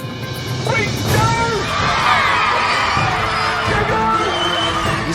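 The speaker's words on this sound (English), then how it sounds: "You see the kids, they're laughing and screaming and running as fast as they possibly can" Children shout and scream as they race in red and blue teams during a cooking competition show, a loud, dense crowd din with excited high voices and adults calling out throughout.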